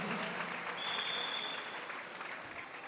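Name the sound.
congregation applauding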